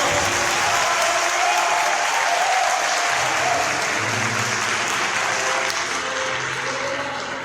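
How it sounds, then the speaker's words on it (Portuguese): Loud, sustained applause from a church congregation during worship, thick continuous clapping lasting several seconds and fading slightly toward the end, with faint crowd noise beneath. "aplauda eles em forte glória a Deus"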